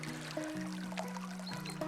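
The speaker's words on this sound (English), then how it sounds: "it forces the water to run a little faster here, so we get most of the winter ice-free" Fast-running river water kept open and ice-free through winter, a steady close trickling and pouring flow with faint tonal hum underneath, no voices.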